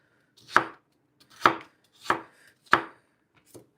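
Celery stalks being chopped with a knife on a cutting board, four crisp, evenly spaced chops and a softer fifth, close and alone with no talking.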